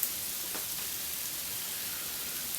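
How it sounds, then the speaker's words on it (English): Freezing rain, neither quite snow nor quite rain, falls steadily outdoors as an even, dense hiss that stays constant throughout, with no voices or other distinct sounds. "it's not quite snowing, but not quite raining. I think it's icing out right now."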